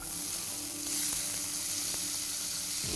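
Chopped tomatoes hit a hot pan of oil for Gujarati sev tamatar sabzi, setting off a loud, steady sizzle with a few sharp pops and crackles, no voices.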